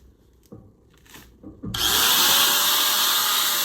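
A grinder on grind mode cuts into a steel burn barrel for an incinerator build, starting after some quiet handling noises and then running loud and steady with a harsh, continuous metallic roar.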